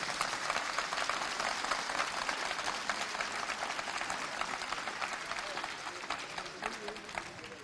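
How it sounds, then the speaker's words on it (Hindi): An audience at a ceremony claps for the parents, a dense wash of many hands applauding at a steady level throughout, fairly distant and continuous, with no voices standing out. "आप अपने पेरेंट्स के लिए भी तालियां बजाएं।"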